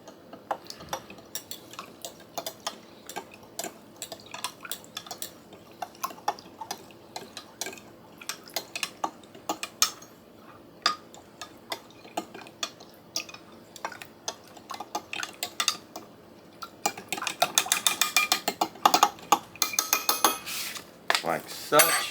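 A spoon stirring seasoning into a cup of water, light clinks and taps against the cup repeating irregularly, growing faster and busier toward the end, faint and close with faint background noise.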